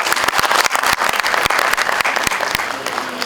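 Sustained audience applause at a NAAC accreditation celebration, a dense, steady wash of many hands clapping with sharp individual claps standing out, fairly loud and continuous throughout.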